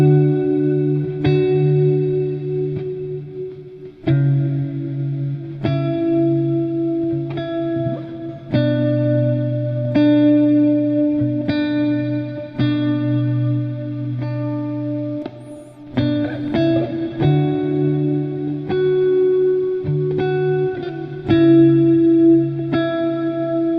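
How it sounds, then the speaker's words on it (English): An electric Stratocaster plugged straight into a Scarlett interface and run through Guitar Rig 6 ambient effects plays sustained, chorus-washed chords and notes with echo and reverb tails, alone and without talk. "I'm plugged direct with my Strat into my Scarlett interface, and I love the sound."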